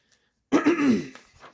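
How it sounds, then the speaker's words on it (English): A single throat clearing, close and fairly loud, a rough guttural rasp lasting about half a second and trailing off into quieter breathy noise. "I'm not sure why I'm clearing my throat all of a sudden."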